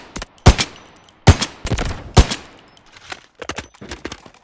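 Sniper rifle shots in the mobile shooter game Delta Force Mobile ring out as a few sharp, loud cracks spaced about a second apart, followed by quicker, lighter clicks and shots, with no talking.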